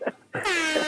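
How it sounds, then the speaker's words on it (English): An air horn sound effect blared to mark an upset in a sports talk show, a short loud honk with a rising tonal blast following a brief opening toot. "The upset air horn is getting a lot of work this week."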